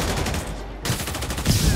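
Enemy gunfire in a video game, a rapid burst of sharp shots, loud and close, cutting off briefly before more crackling fire resumes.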